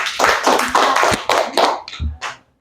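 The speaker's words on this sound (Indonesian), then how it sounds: "tepuk tangan untuk kelompok" A short burst of hand clapping from a small classroom group, several quick loud rounds that taper off after about two seconds.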